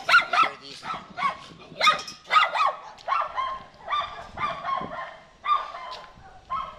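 Several neighborhood dogs bark repeatedly from a nearby yard, a steady run of sharp, fairly close barks with overlapping yaps and a few higher yips, continuing without pause across the stretch.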